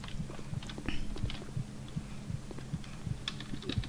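Steady thudding heartbeat effect from the horror game Statues, regular paired low beats pulsing roughly every half second, with faint clicks and higher game noises scattered above, no voices.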